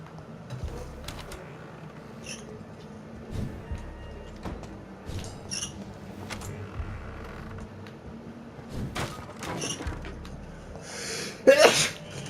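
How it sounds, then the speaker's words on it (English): A sharp sneeze erupts near the end in the game Vampyr, following quiet creaks and small mechanical clicks, with no talk. "Ah, sneezing. I hate sneezing so much"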